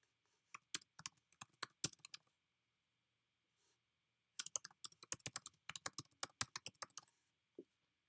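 Two bursts of typing on a computer keyboard, crisp clicks close to the microphone in quick uneven runs, separated by a few seconds of near silence and ending with a single tap.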